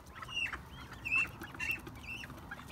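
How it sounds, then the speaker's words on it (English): A white showgirl rooster and nearby chickens cluck in a backyard flock, with four clear, repeated bright calls spaced roughly evenly over a soft background of softer bird murmurs. "The white showgirl rooster."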